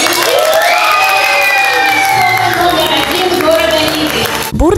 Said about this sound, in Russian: Бурные аплодисменты раздались в зале